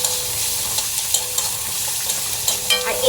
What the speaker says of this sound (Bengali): দিয়ে সামান্য নাড়াচাড়া করছি